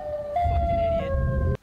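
Siren Head creature's wail, a steady electronic siren tone with stepped pitch changes, loud and close, cutting off abruptly at the end over a low rumbling background.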